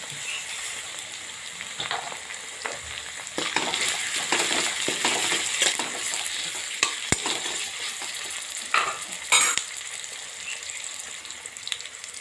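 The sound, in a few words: tomato and vegetables sizzling while frying in ghee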